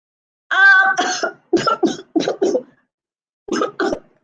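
A run of harsh, rasping coughs comes in quick bursts, then a pause before two more coughs, close and loud against silence.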